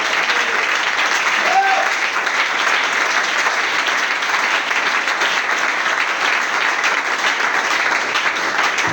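A church congregation applauding, steady dense clapping that stays loud and even throughout, with faint voices mixed in beneath it.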